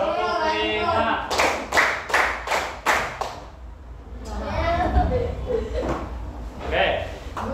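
Children clapping in a classroom counting game, a run of about six sharp, evenly spaced claps followed by scattered claps, with a voice talking over and between them.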